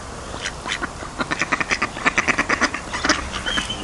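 Several ducks quack in a rapid series of loud, close calls beside a river in Yorkshire, with the quacks bunching into a rhythmic burst in the middle before thinning out.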